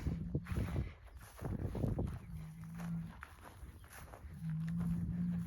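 Cattle moo repeatedly in long, low calls during weaning on a working ranch, one near the start and louder sustained ones later, over shuffling and ambient farm noise.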